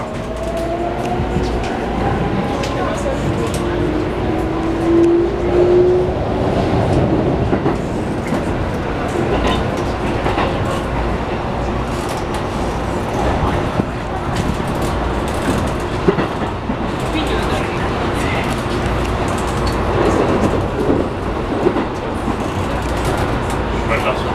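Keikyu New 1000 series eight-car train, two sets coupled, with Toyo IGBT-VVVF inverter, running on the Keikyu Main Line between Yokohama and Keikyu Higashi-Kanagawa: steady interior rumble and wheel clatter with rising motor whine, continuous and fairly loud.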